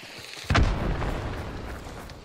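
A bomb goes off in the Hunt: Showdown game, one sudden loud boom followed by a long rumbling roar that slowly fades.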